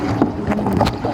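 Water sloshes and churns broadly as a passing boat's wake stirs the sea near a kayak off Ilhabela, with wind noise over the microphone.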